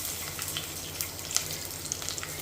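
Garlic and other ingredients frying lightly in hot oil, a steady soft sizzle with scattered small crackles and pops, fairly quiet and alone.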